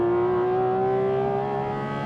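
A Porsche 718 Cayman GT4 RS fitted with a Kline exhaust revving through the gears gives a steady, strong engine drone whose pitch shifts only slightly, close by and with no talk.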